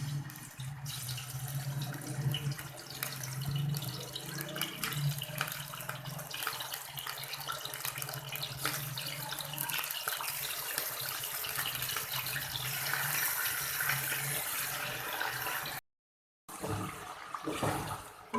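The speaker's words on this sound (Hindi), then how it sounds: "ऑयल गर्म हो चुका है, सबसे पहले मैं इसमें बीफ डालूँगी।" Beef pieces hit hot oil while cooking biryani, giving a loud, steady broadband sizzle that runs continuously, with a short break near the end before the frying resumes.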